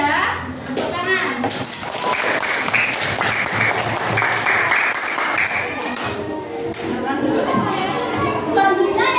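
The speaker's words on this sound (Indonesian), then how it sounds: "Tepuk tangan." Classroom applause from schoolchildren during a science lesson on changes of state while making ice cream: dense, sustained clapping that fills the room for the full stretch, mixed with children's voices chattering underneath.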